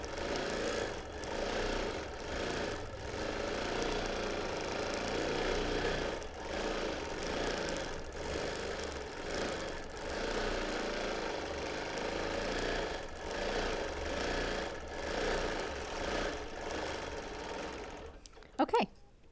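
A longarm quilting machine stitches a freemotion edge-to-edge pattern straight over taped fabric, its steady motor hum and rapid needle chatter running continuously and close for nearly the whole stretch before a brief clunk at the end.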